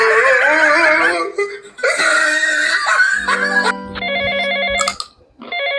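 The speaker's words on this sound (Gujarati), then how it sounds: "ફોન આવે છે ઉપાડ ઉપાડ" A telephone rings in a repeated electronic ringtone pattern for several seconds, following loud, animated voices in a comic domestic scene.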